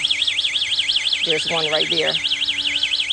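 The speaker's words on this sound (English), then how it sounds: "And that noise you hear in the background is my little alarm." A high electronic animal-repellent alarm in a backyard garden warbles continuously up and down in a steady cycle while a person speaks briefly over it.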